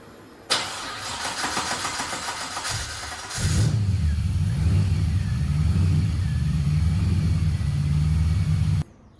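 A Mazda Miata MX5 NC with a swapped LS1 V8, running rich, cranks with a whirring starter, then fires up into a loud, deep, lumpy idle that rumbles steadily up close until cut off.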